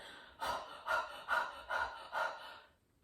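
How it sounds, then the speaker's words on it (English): Five forceful, evenly spaced breaths pushed from the low belly in a choir warm-up, each a loud breathy huff close to the microphone, with no talking. "we're going to do 5 breaths, low and kind of really, really, really forceful"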